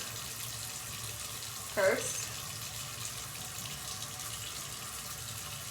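Water runs from a sink tap as a steady, even hiss throughout, with a brief clunk near the start and someone speaking a word over it.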